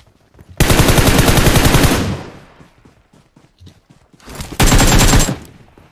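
Automatic weapon fire in an online shooter game, two loud sustained bursts of rapid shots, the first about one and a half seconds long and a shorter one later, with quieter game sounds between.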